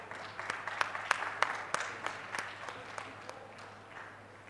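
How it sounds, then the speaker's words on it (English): A conference audience at a university gives a round of applause as the session chair takes the dais. The claps are fairly sparse and distinct, with sharp individual hand claps standing out before the clapping thins and fades. "Can we have a huge applause"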